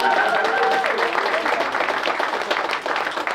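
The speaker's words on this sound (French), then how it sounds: "donc voilà, on l'applaudit." An audience at an MMA academy fight event in Diambar Octogone applauds a fighter with a dense, continuous wash of clapping, partly overlapping a voice at the start.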